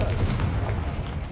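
A Confringo blast spell in the video game Hogwarts Legacy, heard as a short, booming, rumbling burst with a heavy low-end roar that fades quickly.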